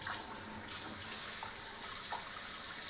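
A Kohler stainless kitchen sink faucet runs strongly at high pressure, a steady, loud, hissing stream of water pouring without a break.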